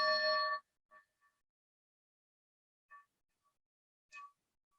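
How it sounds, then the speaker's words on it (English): A small chime is struck during a church service, one long ringing tone at the start followed by several softer, brief strikes spaced apart in an otherwise quiet room. "we will ring our chime 3 times"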